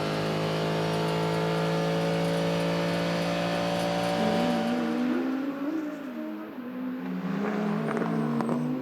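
GT race cars, among them an Audi, roaring past at the Red Bull Ring during an ADAC GT Masters race, loud sustained engine drone with shifting pitch as cars pass and accelerate, continuous throughout.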